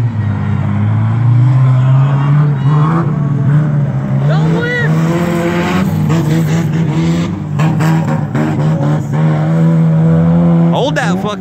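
Race cars at Daugherty Speedway during a spectators race, engines droning loudly and revving up and down with shifting pitch over the whole stretch, with people talking over the engine noise.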